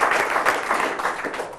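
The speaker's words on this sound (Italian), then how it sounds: "quindi farei un applauso a Gianni Gross." A studio audience on an Italian sports television programme breaks into dense, steady applause, a short burst of many hands clapping together at close range.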